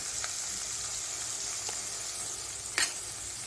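Garlic and coriander sautéing in a pan give a constant, fairly faint hiss and sizzle, with a few light stirring taps and one sharper scrape near the end, and no talking.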